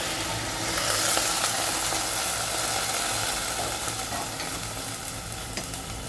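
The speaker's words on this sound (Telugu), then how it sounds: "ఈ టైంలో నేను రైస్ యాడ్ చేస్తున్నాను." Rice is added to a hot pan of mint rice with carrots, potato, onion and tomato and stirred, giving a steady, close, hissing sizzle with scraping stir noises throughout.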